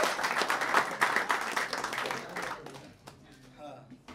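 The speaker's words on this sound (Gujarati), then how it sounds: "with a huge round of applause" Audience applause at a stand-up comedy show welcoming comedian Deep Vaidya, a dense burst of clapping that fades after a few seconds, mixed with some voices.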